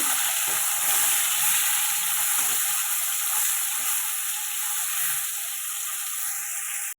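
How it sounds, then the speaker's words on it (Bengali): Onions frying in goat fat for a jackfruit curry give a steady, loud sizzle and hiss close up, with a few soft stirring scrapes and no talk. "পেঁয়াজগুলো দিয়ে দিলাম পেঁয়াজ দিয়ে দিলাম পেঁয়াজগুলোকে ভেজে নেব"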